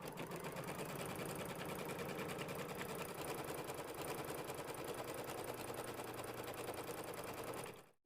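Embroidery sewing machine stitching a placement outline onto quilt fabric, a steady rapid needle clatter running loud and continuous for nearly the whole span before cutting off at the end.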